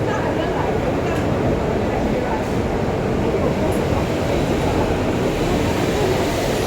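Loud, steady rumble of an MRT metro train rolling along, a constant roar of wheels and motion with no pauses.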